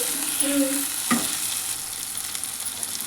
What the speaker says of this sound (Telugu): కలుపుకోవాలి ఇలా పచ్చివాసన పోయేంత వరకు వేగరించుకోవాలి